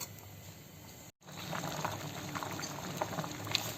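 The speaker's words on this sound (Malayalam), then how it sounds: "ഇതും കൂടെ ഒന്ന് കിടന്ന് തിളച്ച് വരട്ടെ." Sambar with its ground spice paste bubbling in a pot, a close, steady simmering hiss with soft popping bubbles, broken by a brief gap near the start.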